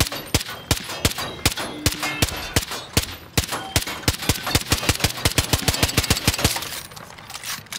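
Elite weapon in Far Cry New Dawn firing piercing-ammo single shots, a steady run of sharp, loud reports, roughly two or three per second, continuing for several seconds without talk.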